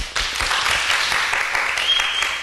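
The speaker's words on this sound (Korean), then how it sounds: "박수 한번 쳐줘요." Applause breaks out in a children's church worship service in Korea, a dense, steady patter of many hands clapping close by for the whole stretch after a brief quiet start, with no talking over it.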